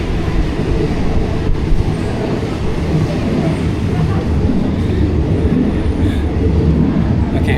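A train departing Muak Lek station rumbles steadily at close range, a continuous heavy roar of wheels and engine with faint rattling and a few squeals throughout.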